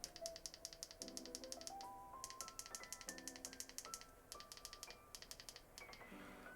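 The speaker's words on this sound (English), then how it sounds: "those were some of the clickiest and loud buttons that I have heard." A quick, rhythmic run of faint small clicks from the power and volume buttons of a Humixx translucent case on a Google Pixel 7, heard close and quiet, with soft tonal beeps mixed in.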